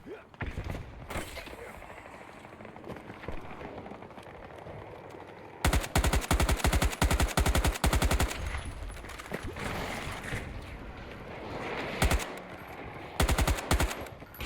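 Bursts of rapid automatic gunfire rattle through a Battlefield 2042 firefight, dense rhythmic volleys and single shots, loud and close, with a player's voice talking intermittently between the bursts.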